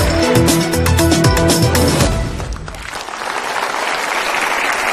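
A studio audience at an Indonesian televised anniversary celebration breaks into loud applause, dense clapping under a blaring musical sting that fades after two seconds, leaving a softer continuous wash of hands.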